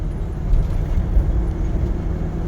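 Mitsubishi Pajero with a 4M40 diesel engine and automatic transmission cruising in third gear, a steady low rumbling drone inside the cabin, with no one speaking.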